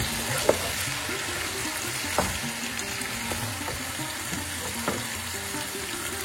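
A mixed vegetable chhyachra frying and sizzling in a pan, with a soft continuous hiss and a few sharp spoon taps against the pan as it is stirred, fairly quiet and close.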